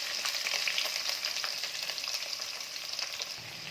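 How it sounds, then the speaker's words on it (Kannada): Long-cut onions fry in oil alongside green chillies for vangi bath, a steady close sizzle with light stirring and no talking. "ಇನ್ನೊಂದು 5 ನಿಮಿಷ ಈರುಳ್ಳಿ ಹಸಿ ವಾಸನೆ ಹೋಗೋವರೆಗೂ ಎಣ್ಣೆಯಲ್ಲಿ ಫ್ರೈ ಮಾಡ್ಕೋಬೇಕು"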